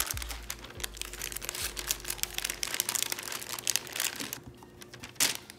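Parchment paper crinkles and rustles in irregular bursts close by as empanada dough is rolled over in it, with soft handling noises and a low hum at the start.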